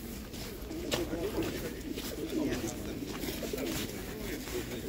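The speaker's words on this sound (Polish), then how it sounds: "takie się kupuje gołębie." Pigeons cooing softly in a loft, a low continuous burble of several birds with people talking faintly in the background.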